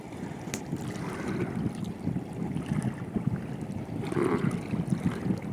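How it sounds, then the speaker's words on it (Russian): A small motor boat mooring at the Yakutsk river port gives a low, uneven engine rumble mixed with gusty wind buffeting and faint water sounds, moderately distant. "Причаливает катерок на свое место."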